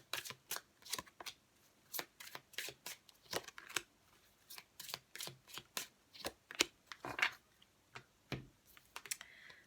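Oracle cards are shuffled in a long run of quick, crisp riffling bursts, each a short papery flutter repeated at a fairly steady rhythm, close and quiet with no talking.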